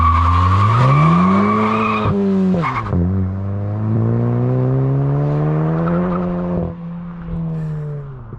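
A VW Golf MK8 GTI with a muffler delete and stock downpipe pulls hard, its exhaust rising in pitch through the revs, dropping sharply at a gear change, then climbing again, loud and close.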